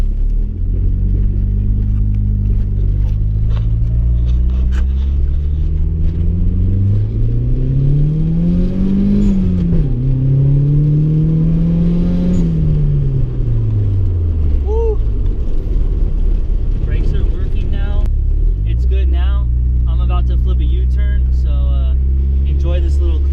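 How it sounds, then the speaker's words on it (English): A Nissan 240SX is driven hard, its engine droning loud and close, revving up and down in long sweeps, then briefly dropping before surging sharply again as the clutch is kicked. "Enjoy this little clutch kick."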